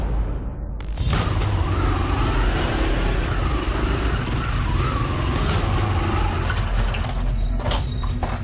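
Motorcycle carrying three riders revving hard and speeding off down a street in Barukang, a loud, sustained engine roar that starts abruptly and stays close throughout.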